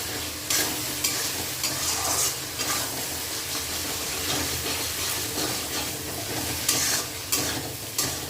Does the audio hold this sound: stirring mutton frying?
yes